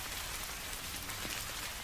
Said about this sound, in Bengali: এক টানা বিরামহীনভাবে বৃষ্টি পড়ছে তো পড়ছেই।